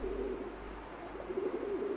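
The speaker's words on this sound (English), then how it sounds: "Ada burung." Pigeon-like cooing from a bird in a hidden-object adventure game set in a Christmas fairy tale, a steady low murmuring coo repeating throughout, fairly close and alone.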